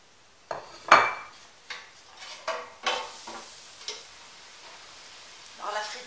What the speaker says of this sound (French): je vais les mettre à frire tout de suite